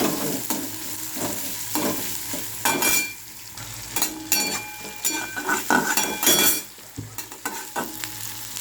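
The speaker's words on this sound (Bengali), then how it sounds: "পেঁয়াজটা একটু ভাজা করে নেবো হালকা ভাজা" Onions frying lightly in a pan for a masoor dal, with a steady close sizzle and repeated scraping stirs and clinks of a utensil against the pan throughout.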